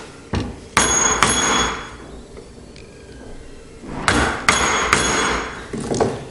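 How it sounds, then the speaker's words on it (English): A hammer strikes a wood chisel cutting a mortise for a mortise and tenon joint, sharp forceful knocks in two clusters separated by a quieter pause. "you can hit the chisel quite hard. Be quite forceful with it"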